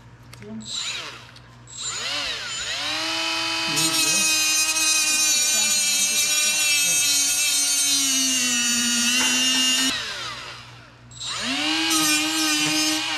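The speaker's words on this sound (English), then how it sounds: "just drilling" A power drill whines loudly in long sustained bursts, pitch rising as it spins up and dropping briefly between runs.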